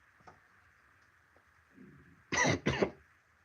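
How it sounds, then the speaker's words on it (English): A smoker's harsh cough, heard while someone works on an Xbox One thermal paste replacement: two loud, close, rasping bursts in quick succession after a quiet stretch with faint rustling. "Getting that smoker's cough or type thing."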